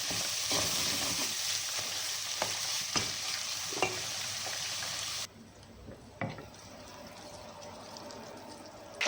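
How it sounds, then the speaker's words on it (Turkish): A spiced zucchini filling with red pepper, cumin and parsley is stirred in a frying pan. A soft sizzle runs under spatula taps and scrapes, then the sizzle abruptly drops away, leaving a few faint knocks. "Güzel karıştıralım."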